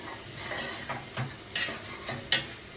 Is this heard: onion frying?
yes